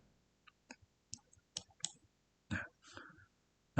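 Computer mouse clicks while working in a Google Sheets spreadsheet: a sparse, irregular run of short, close clicks, some in quick pairs, against near silence.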